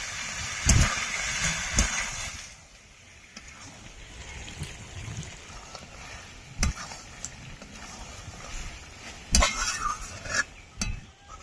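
Chicken pieces frying in a pan while being stirred, with a soft sizzle underneath and sharp scrapes and clinks of a utensil against the pan at irregular moments.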